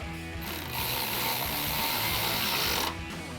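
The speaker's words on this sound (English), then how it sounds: "So we'll use our 17mm socket to tighten up the large bolt at the top." A hand ratchet with a 17mm socket tightens the large top bolt of a running-board bracket on a 2021-2024 Ford Bronco, making a loud continuous rapid clicking for about three seconds, close up and without talk.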